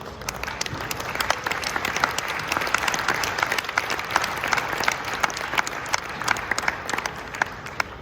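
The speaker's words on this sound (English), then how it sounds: "Once again, please give them the biggest round of applause." A hall audience at a leadership training event applauds its leaders in a steady, even rain of claps, moderately loud and sustained throughout without speech.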